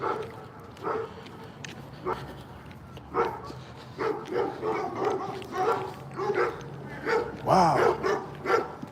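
Several dogs bark in repeated bursts, some yips and whimpers mixed in, at moderate distance outdoors along a residential street during a morning walk.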